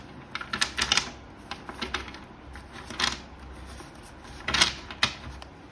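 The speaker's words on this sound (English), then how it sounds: "Sorry, that was a really bad shuffle." Tarot cards shuffled by hand during a reading, several quick riffling bursts with pauses between them, close and crisp in a quiet room with no talking.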